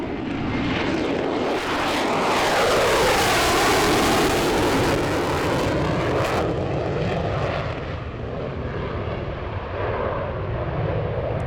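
A US Navy F-35C fighter jet roars past in a demonstration at the AirVenture airshow, a loud sustained rumble that swells and sweeps by, then slowly recedes with a shifting whine.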